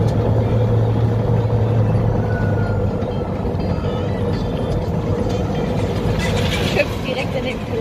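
A MAN bus driving in Turkey, a continuous low engine rumble and road drone heard from inside, loud and steady throughout, with voices talking over it.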